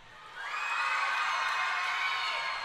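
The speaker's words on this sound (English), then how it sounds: "there's the cheer about an octave higher than any other sport you'll hear" A crowd at a netball match breaks into a high-pitched cheer that swells quickly and holds loud across the court, with shrill whoops mixed in and no clear talk.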